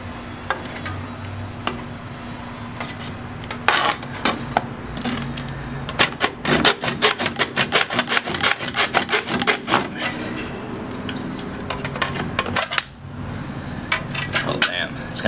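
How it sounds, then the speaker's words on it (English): A saw works through dried bamboo, with quick, repeated rasping strokes in a dense rhythmic burst mid-clip among scattered knocks, and a voice talking over part of it. "it's still pretty hard to cut through this stuff"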